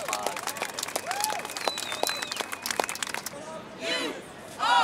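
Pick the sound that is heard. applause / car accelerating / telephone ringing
applause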